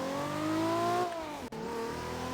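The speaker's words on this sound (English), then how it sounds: "Listen to the engine sounds." A Toyota Supra engine in a video game, a loud, close whine that climbs steadily in pitch, then drops sharply and briefly cuts out before the engine settles back in at a lower pitch.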